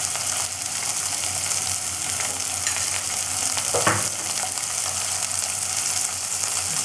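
Oil sizzles steadily in a pan while fish kofta curry is cooked, a close, continuous frying hiss with a brief stir or splash partway through and no talking.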